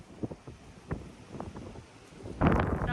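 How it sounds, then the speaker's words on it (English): Gusty wind buffets the microphone outdoors on a homestead, coming in irregular low thumps and swells that build into a loud, sustained rush at the end, with no voices present. "We need to go away from the wind."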